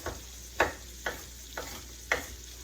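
Onions sizzling in a pot of one-pot sausage pasta, with a utensil stirring them: a faint steady hiss under five evenly spaced scraping knocks, close and with no voices.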